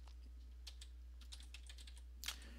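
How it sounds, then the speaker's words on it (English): Someone types a search into Google on a computer keyboard, with sparse, light key clicks at close range over a steady low hum and no talking. "just go to Google and type in Get Response"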